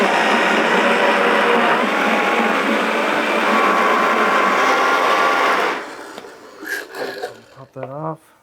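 A kitchen blender whirs loudly and steadily, blending edamame with a generous pour of truffle oil, then cuts off abruptly, followed by a few clunks as the jar is handled.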